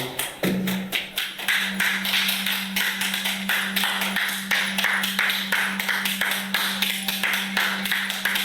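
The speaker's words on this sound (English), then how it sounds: "Big round of applause" Continuous, lively applause from a crowd, dense hand claps throughout, with a low steady hum underneath.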